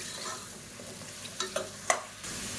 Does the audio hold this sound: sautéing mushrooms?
yes